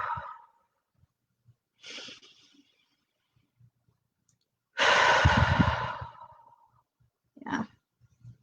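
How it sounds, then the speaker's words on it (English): A person takes a couple of deep breaths: a short inhale, a softer exhale, then one long, loud, rushing breath out, and a final quick breath, close and alone with quiet pauses between. "A couple deep breaths."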